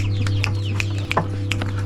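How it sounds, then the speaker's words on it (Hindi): Chickens clucking around a village in Nagaland, several short sharp clucks and calls over a steady low hum, fairly close, with no talking. "मुर्गी हैं मुर्गी हैं।"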